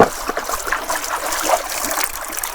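Cut pool barb fish being rinsed in river water, a steady trickling, splashing wash that runs close and continuous with no talk over it.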